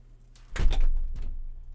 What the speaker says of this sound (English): I'm just gonna close the door to my office so that our cats don't come in here